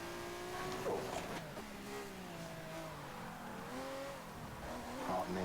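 A race car in a racing video game spins out: the engine revs and rises and falls in pitch while the tires squeal and skid, loud and close throughout.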